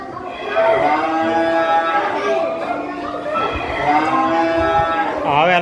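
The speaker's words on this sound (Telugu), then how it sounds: "ఆవు ఎలా అరుస్తుంది?" A cow moos in long, drawn-out bellows played during a first-grade classroom animal-sounds activity, loud and near, with voices chattering underneath.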